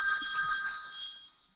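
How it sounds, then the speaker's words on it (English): A mobile phone ringing nearby with a bright, steady electronic tone that holds for over a second and then fades out, with nothing else heard around it. "I apologize, this is my husband's phone."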